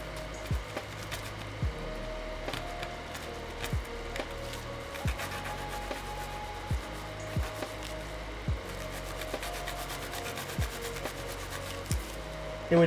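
Hand filing on a CW60 keyboard build, a rasping stroke repeated roughly once a second at a steady rhythm, fairly close and moderate in level, with no talking.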